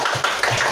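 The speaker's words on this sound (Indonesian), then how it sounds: "tepuk tangan buat kelompok 4" Brief applause from a classroom group, a few quick claps and taps, close and fairly loud.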